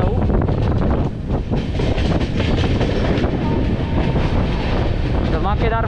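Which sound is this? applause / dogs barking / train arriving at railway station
train arriving at railway station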